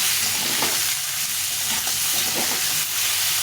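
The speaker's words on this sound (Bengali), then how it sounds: "ভালো করে একসঙ্গে ভেজে নেবো সুন্দরভাবে ভাজা হয়ে যাবে আলু বেগুনকে" Potato and eggplant pieces fry together in hot oil with salt and turmeric, giving a steady, close sizzle with a few soft stirring scrapes.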